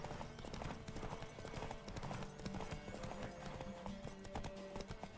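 Horse hooves galloping in a race in The Witcher video game, a steady rapid clip-clop rhythm that runs throughout, loud and close over dense game music and ambient noise.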